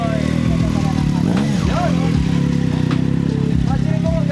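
A Triumph Street Triple 765 motorcycle on a test ride, its engine rumbling up close with several rising and falling revs as the throttle is blipped.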